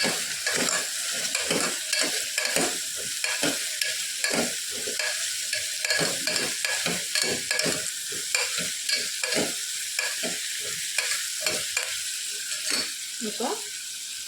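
Eggplant and drumstick are stirred in hot oil in a pan, with steady sizzling and repeated scraping strokes over about fourteen seconds.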